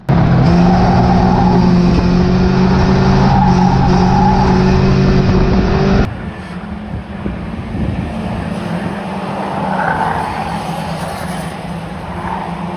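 A race car slides tail-out around the bend of a floodlit oval at Cowdenbeath Racewall, its engine roaring loud and close, then dropping away into quieter, rougher engine noise and tyre scrub after a sudden cut.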